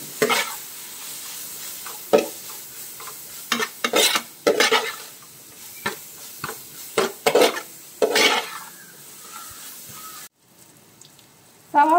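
Onions sautéed with turmeric in a pan while preparing a toddy-shop style fish head curry: repeated scraping and stirring strokes against the pan over a steady sizzle, with a few clinks of utensil on metal.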